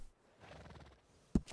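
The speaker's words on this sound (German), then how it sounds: "Cooles Pferd." A horse in Red Dead Redemption 2 gives a brief, faint whinny, followed by a sharp louder thump near the end.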